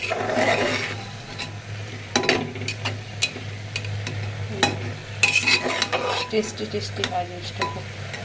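Egg batter with carrot and beans stirred in a bowl, giving repeated scraping and clinking of a utensil against the container, with soft sizzling and a low hum in the background and occasional talk.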